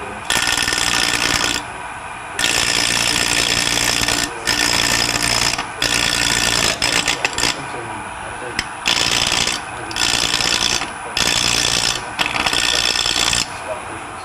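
A gouge takes push cuts on a wood lathe while shaping a tenon for a tri-cornered box, giving a loud continuous scraping rasp broken by short pauses as the tool lifts and re-engages.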